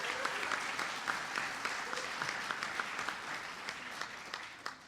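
Audience at a Tribal Nations Conference applauds Energy Secretary Stephen Chu: a sustained, even round of many hands clapping, moderately distant in a large hall, with no talking over it.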